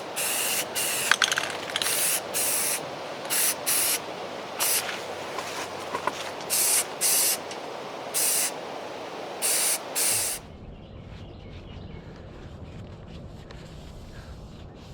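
Short bursts of spray paint hiss from an aerosol can as satin black finish coat goes onto bike parts, about a dozen close, sharp sprays in an uneven rhythm, then quiet.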